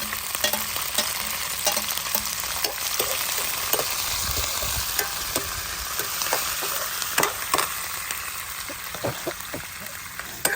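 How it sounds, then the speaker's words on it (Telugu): Green chillies and curry leaves fry in a pan with a steady crackling sizzle, punctuated by frequent scraping and stirring clacks of a utensil throughout, no voices. "కొంచెం లైట్గా వేగిన తర్వాత పచ్చిమిర్చి కూడా వేసేసుకుంది, కరివేపాకు"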